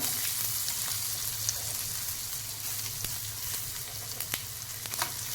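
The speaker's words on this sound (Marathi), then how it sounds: "कांदा आपल्याला चांगला परतून घ्यायचा आहे असा गोल्डन कलर येईपर्यंत आपल्याला तो परतून घ्यायचा आहे" Onion with green chili frying in a pan, a steady close sizzle running throughout with a few sharper crackles and spatters near the end.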